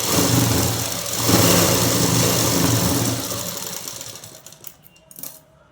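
A sewing machine stitches a festival dress with a steady, close mechanical whir that runs for about three seconds, then slows and stops, ending in a few faint clicks.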